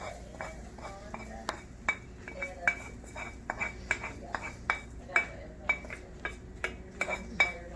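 Sautéed food is dumped into a pan, with a utensil clanking and tapping against the metal in a steady series of sharp, close clinks over quiet background noise.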